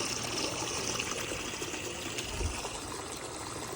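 Water runs steadily through a handmade, plumbed aluminum live well on a center console boat, a continuous close trickling and splashing that stays even throughout, with no voices.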